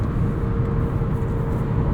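A 2002 Volvo S60 with a 5-speed manual drones at highway speed, its engine held at high revs in a steady low rumble mixed with road and wind noise from inside the cabin.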